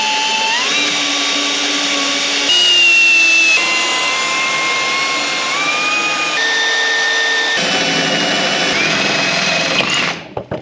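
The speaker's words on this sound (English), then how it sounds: "going to drill them out" A steady, loud power-drill whine with shifting pitch, drilling out bolts on a 1965 Toyota Land Cruiser FJ45 cab, running continuously with brief changes in speed, then cutting off abruptly at the end.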